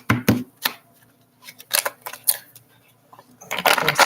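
Tarot card deck being shuffled by hand, a series of sharp, close riffling bursts separated by short pauses, ending in a longer flurry.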